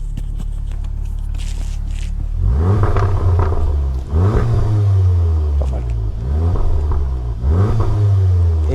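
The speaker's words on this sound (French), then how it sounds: "Petit best-of, juste le son du moteur pour faire plaisir à certains." A Stage 1 tuned Seat Leon Cupra engine revs hard through repeated gear changes, its exhaust rising and dropping in deep rumbling sweeps; a voice comments briefly over it.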